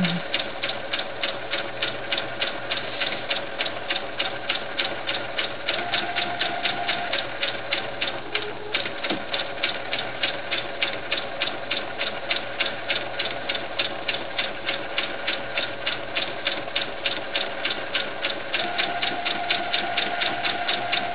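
A sewing machine runs continuously as it back-stitches and then sews along a doll body seam, a rapid, even mechanical chatter with steady needle strokes close by, a slight change in pitch partway through, no voices.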